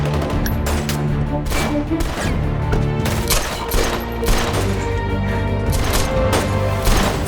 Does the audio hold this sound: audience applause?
no